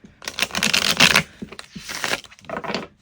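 A deck of tarot cards being shuffled by hand in a short run of dense riffling bursts, loud and close, with brief pauses between bursts and no talking.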